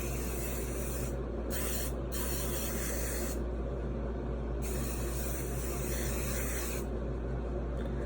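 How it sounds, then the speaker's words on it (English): Makeup setting spray mists onto a face as short, close, steady hissing bursts separated by brief gaps, with no talking. "I will give myself another spray."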